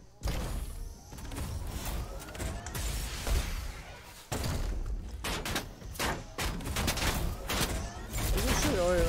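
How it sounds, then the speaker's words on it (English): Gunfire from the Fortnite video game rattles in dense, loud bursts and rapid volleys that run almost without pause through the clip, with a brief lull near the middle. "You can shoot all you want"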